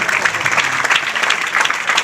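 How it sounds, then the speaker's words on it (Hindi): An audience at a seminar gives a loud round of applause, dense and sustained claps throughout with slight swells, close and full. "एक जोरदार ताली।"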